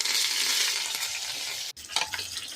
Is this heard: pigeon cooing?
no